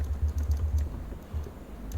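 Quick bursts of keystrokes on a computer keyboard, close and fairly loud, tapping in uneven runs with short pauses between phrases and no talking.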